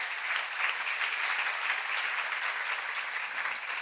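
A church seminar congregation claps together in a dense, steady burst of applause from many hands, lasting a few seconds with no speech over it.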